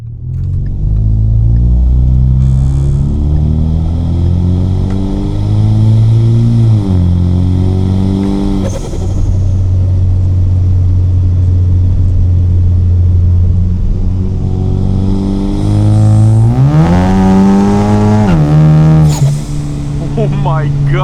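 A Ford EcoBoost car fitted with a CVF downpipe accelerates hard, its engine note loud and close, climbing in pitch through several gear pulls with brief drops between shifts and a turbo whine riding on top.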